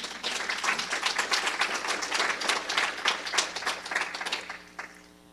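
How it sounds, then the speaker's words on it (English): A symposium audience applauds with dense, lively clapping that holds steady for several seconds before fading out quickly at the end. "how about a round of applause for those wonderful students"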